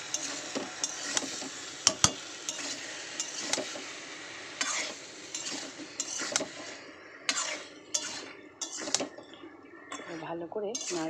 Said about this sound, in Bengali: ভালো করে নাড়িয়ে নেব পোস্তটা।